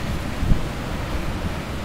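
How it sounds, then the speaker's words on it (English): Big standing waves on the Chetco River as high tide floods in, a steady roar of surf and water with wind buffeting the microphone and one brief low thump. "Look at these standing waves,"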